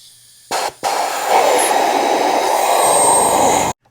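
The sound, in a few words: air compressor blowing out engine cylinder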